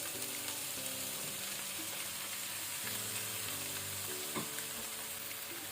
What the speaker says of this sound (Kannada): ಈಗ ನಾವು ಬೆಂಡೆಕಾಯನ್ನು ಮೀಡಿಯಂ ಫ್ಲೇಮಲ್ಲಿ 4 ಮಿನಿಟ್ ಫ್ರೈ ಮಾಡ್ಕೊಳ್ಳುವ